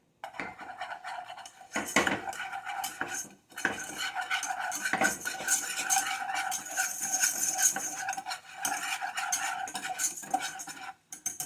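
Metal utensil scraping and clinking steadily against a pan while flour is stirred and cooked for a homemade macaroni and cheese sauce, with continuous close scraping broken by brief pauses.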